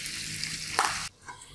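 Garlic fries in hot oil for adobo with a close, bright sizzle. The sizzle surges briefly with a stir and then drops away sharply, leaving a much fainter hiss.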